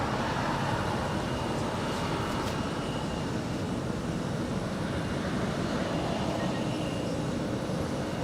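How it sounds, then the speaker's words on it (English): An Alaska Airlines A320 airliner taxis for departure at LAX, a steady broad jet engine rumble and whine holding constant at moderate distance, with no voices over it. "It's an A320 making her way down for a departure on the 25s"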